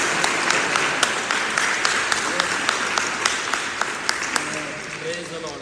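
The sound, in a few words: congregation applauding loudly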